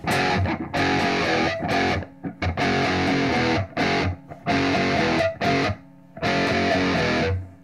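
Distorted electric guitar from a Carvin DC 127C played through its humbucker pickups, loud chords strummed in several bursts separated by short silent gaps, no voice.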